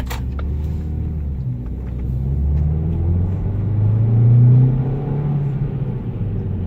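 A 2013 Ford Focus with a 2-liter 4-cylinder engine drives and accelerates, its low engine rumble and road drone swelling steadily as it pulls, close and continuous with no talking.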